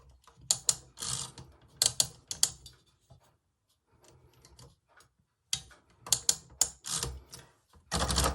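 A typewriter being typed on while making a stitched story box, with bursts of sharp mechanical key strikes and clacks separated by a quiet pause in the middle, close and crisp.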